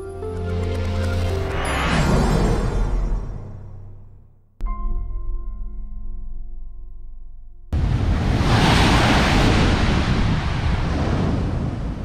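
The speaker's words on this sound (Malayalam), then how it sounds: "ഇത് തൃശ്ശൂർ ജില്ലയിലെ തീരദേശ ഗ്രാമമായ ഏങ്ങണ്ടിയൂരിലെ പൊക്കുളങ്ങര കടപ്പുറം." Sea waves break on Pokkulangara beach at Engandiyur, a coastal village in Thrissur hit by sea erosion. A loud, continuous roar of surf is mixed with wind buffeting the microphone, with abrupt cuts between sections.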